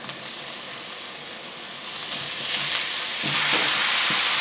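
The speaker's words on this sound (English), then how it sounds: "So let's saute. This is 1 medium-sized onion." One medium-sized onion is sautéed in a pan and hisses and sizzles steadily, a broad frying hiss that grows slightly louder toward the end, with faint stirring clicks and no talk.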